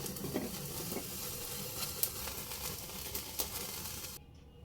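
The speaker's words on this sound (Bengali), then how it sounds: "এবার হাই ফ্লেমে চিকেনটাকে ঘুরিয়ে ঘুরিয়ে রোস্ট করে নেব" Whole tandoori chicken roasting on a small rack over a high gas flame, a steady soft sizzle and spatter with a few brief crackles, cutting off abruptly near the end.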